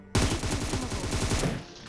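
A rapid automatic gunfire spray in the mobile battle-royale game PUBG Mobile: a loud, steady string of about a dozen close shots in quick rhythm lasting over a second, then a short decaying tail.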